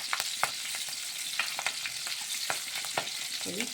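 Nigella seeds and green chillies crackle in hot oil, a close, even sizzle with scattered sharp ticks and spatters as they are stirred.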